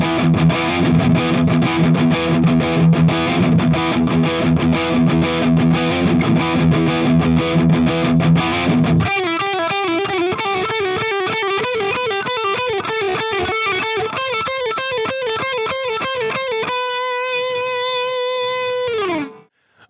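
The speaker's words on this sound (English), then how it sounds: "gain metal tones, bridge pickup" Heavily distorted high-gain metal electric guitar on the bridge pickup of a modded beginner guitar, loud and continuous: dense palm-muted chugging riffs first, then sustained ringing notes with vibrato and a final held bend that cuts off.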